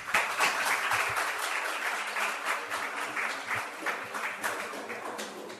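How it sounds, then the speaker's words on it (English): Audience applause at a public talk on Shakespeare's Europe, a dense, steady wash of many hands clapping at moderate level throughout, with no voices over it. "A round of applause, please."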